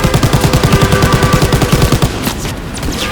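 Rapid bursts of machine gun fire from a World War II shooter game in a train mission, loud and steady for about two seconds before breaking off into scattered impacts.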